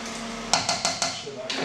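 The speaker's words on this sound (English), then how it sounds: "Just give that a stir." Bolognese sauce with meat stirred in a pan, giving four quick scraping, clinking knocks in a steady rhythm over a low kitchen hum.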